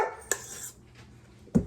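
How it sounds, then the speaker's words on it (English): A dog barking to be let outside in a home kitchen, one short sharp bark followed by another at the very end, fairly close and moderately loud, with quiet room tone between. "Dog's barking to go outside."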